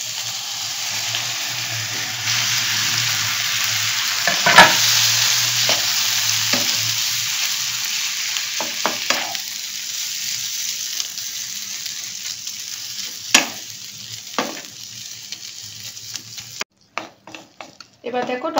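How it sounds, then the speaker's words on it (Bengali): Chopped tomato sizzles steadily in a hot pan with tomato purée, with occasional spoon scrapes and stirring knocks against the pan over a constant frying hiss, continuing alone without talk. "এবার দেখো টমেটোটা দেওয়ার পরে খুব ভালো করে নেড়ে দিলাম"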